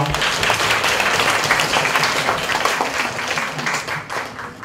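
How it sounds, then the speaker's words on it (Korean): An audience at an elementary-division youth unification debate final claps in sustained, dense applause that stays steady and fairly loud throughout. "다시 한번 박수 부탁드리겠습니다."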